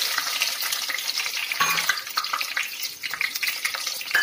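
Chopped small onions sizzle and crackle in a pan for a Kongu-style fish curry, a bright, steady frying hiss with occasional sharper pops and stirring scrapes, close and continuous.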